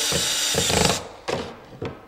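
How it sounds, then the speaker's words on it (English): Power drill driving a fine-thread pocket hole screw into oak: a sustained whirring burst for about a second, then two short, sharp spurts as the screw seats, close and loud. "It always works better when you have the drill going forward."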